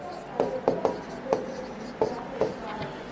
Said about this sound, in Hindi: नाम लिख दिया।